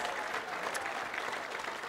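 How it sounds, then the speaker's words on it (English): Applause from an audience at a Pasifika cultural festival, a steady dense wash of clapping held at an even level throughout without breaks. "clap your hands for the MC tonight"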